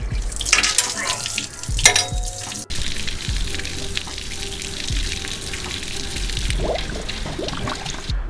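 Water gushes and splashes steadily after a drain plug is pulled while flushing out a cooling system, with a few clunks and handling knocks early on, then a continuous loud rushing flow.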